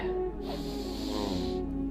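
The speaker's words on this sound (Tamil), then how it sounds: "இந்த மூக்கு வழியா மூச்சு இழுக்கிறீங்க" A long, steady inhale drawn through the nose hisses for over a second over a soft tonal hum.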